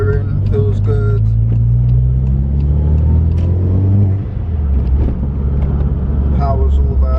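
A Volkswagen Golf GTI Turbo drives with a steady low engine rumble and rising and falling gear tones, heard from inside the car with someone talking over it.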